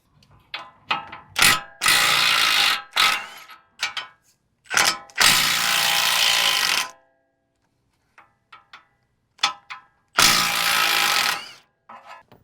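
A ratchet wrench backs out the 24 mm and 19 mm lower control arm bolts on a 4th gen Toyota 4Runner, in repeated clicking bursts of several seconds with short pauses between, close and loud.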